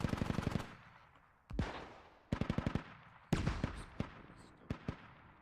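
Bursts of automatic gunfire strike fortifications in the video game Squad, several rapid rattling volleys separated by single sharp shots with echoing decay, fairly close and loud.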